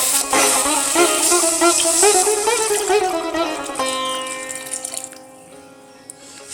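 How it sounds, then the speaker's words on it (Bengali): Water poured into a pan of fried, thickened spice masala for a lentil-fritter (dal bori) and potato curry, a steady close splashing rush that fades after a few seconds. "এটা কষানো হয়ে গেছে, এবার এখানে দিয়ে দেব জল।"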